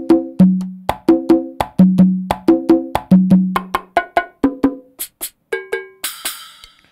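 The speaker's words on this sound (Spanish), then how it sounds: "Viene con esos sonidos. Vienen las congas." A run of sharp conga samples from an SPD-SX sample pad in a quick syncopated pattern, low open tones mixed with higher slaps, ending on brighter metallic strikes.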